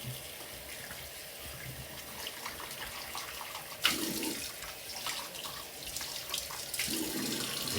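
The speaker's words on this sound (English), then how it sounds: "Quick rinse." Razor rinsed under a running tap during a wet shave, steady hiss of water into a sink with splashy bursts as the blade passes through the stream, close and moderately quiet.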